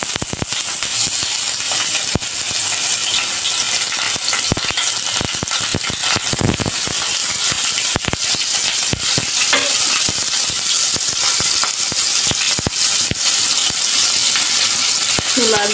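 Prawns frying and being stirred in a pan beside greens, a steady sizzle running throughout with frequent sharp scraping clicks of the spatula against the pan, close and loud, with no talking.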